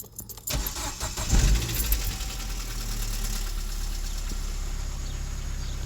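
A car engine cranking and catching after sitting ten days, a short starter whir and rattle that settles into a steady, fairly close idle with no talk.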